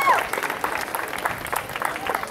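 Audience applauding at a sports complex naming ceremony, a steady wash of clapping from a crowd that stays fairly even throughout, with a brief voice or tone at the very start.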